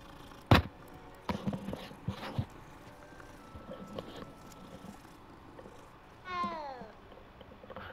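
A single cat meow in Hogwarts Legacy rises near the end, following a few sharp knocks and faint thuds in an otherwise quiet space.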